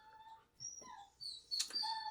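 A dog crying hard, with a few thin, high-pitched whines and whimpers in short separate bursts, the last one sharper and louder, heard fairly close with no talk.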